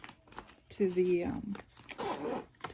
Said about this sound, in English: They can zip up as well.